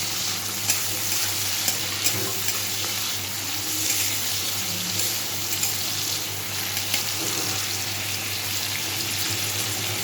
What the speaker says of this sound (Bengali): লবণ দিয়ে চিংড়ি মাছগুলো ভালো করে ভেজে নেব।